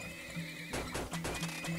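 Horses neigh in the video game Turmoil, a loud whinny bursting out mid-clip over a steady tonal game background, with a short repeated note pattern running underneath.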